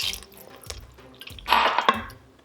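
Water poured into an Instant Pot of crushed tomatoes for paneer butter masala, a short splashing pour rising midway and stopping after about a second, with scattered drips and kitchen clatter before it.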